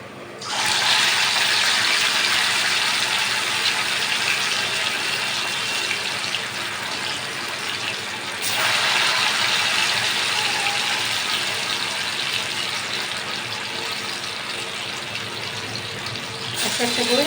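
Pumpkin dhoka fritters (lentil cakes) fry in hot oil, a steady loud broadband sizzle running continuously with a brief dip around the middle, no talk over it.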